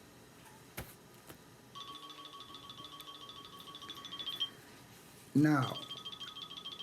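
A phone rings from an unknown caller with repeated electronic tones in two bursts, moderately loud, while someone speaks briefly over it.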